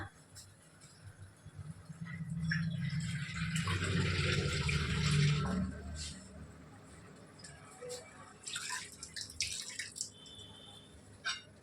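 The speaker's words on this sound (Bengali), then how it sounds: "আমি একটু বাটিটা ধুয়ে অল্প একটু জল দেবো" Water running from a kitchen tap as a bowl is rinsed and a little water is added for cooking masoor dal chochchori, a steady splashing stream swelling in the middle, then scattered drips and clinks, with a voice speaking faintly underneath.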